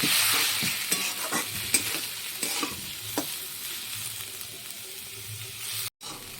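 Grated carrot and egg jhuri bhaja sizzles in a pan while a spatula stirs and scrapes in quick uneven strokes, the frying hiss staying close and fairly loud throughout.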